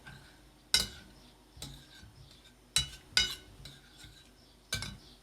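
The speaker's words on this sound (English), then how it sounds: "Give that a nice stir." Pan sauce for steak with carrots gets stirred in a pan, producing sharp metallic clinks and scrapes at uneven intervals, about six distinct knocks with quieter scraping between, close and alone.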